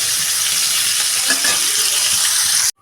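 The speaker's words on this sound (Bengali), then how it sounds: "ফুলকপিটাকে একটু ভালো করে ভেজে নেবো।" Cauliflower pieces fry in hot oil for a fish curry, giving a loud, steady, close sizzle that crackles throughout before cutting off abruptly at the end.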